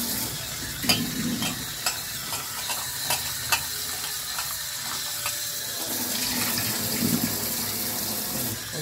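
Tap water runs steadily over soya chaap being rinsed in a sink, with scattered clicks and knocks of handling throughout.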